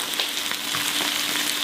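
Steady close frying sizzle as chickpeas go into a pan with chicken, herbs and spices in home cooking, a dense continuous crackle with a few brief pops throughout.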